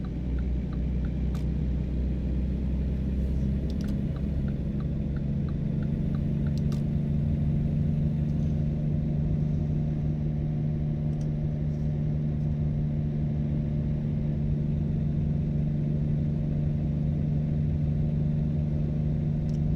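A truck engine with a failing drivetrain drones in American Truck Simulator, a steady, loud low rumble that holds throughout without voices, with a few faint clicks on top.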